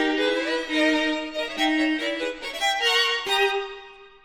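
A bowed string ensemble plays a sustained, shifting melody through an acoustic chamber room reverb, with rich harmonics and a lingering tail after each phrase, full and close without voices.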